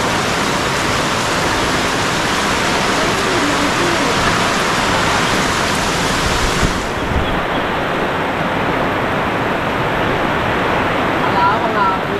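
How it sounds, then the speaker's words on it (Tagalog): Steady, heavy rain pours down on a farm as a continuous dense hiss that fills the whole stretch, with people talking nearby underneath it. "Sarap maligo sa ulan yan."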